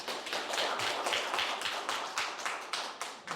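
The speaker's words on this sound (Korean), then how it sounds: "큰 박수 부탁드립니다." Audience at a Korean forum book concert clapping for an arriving guest, a close, steady patter of many hands that pulses and trails off toward the end.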